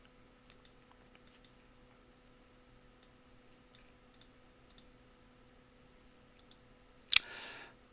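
Faint, sparse mouse clicks, single and paired, spread across a quiet stretch of PowerPoint editing, ending in a sudden louder click or thump with a brief hiss afterward; no talking.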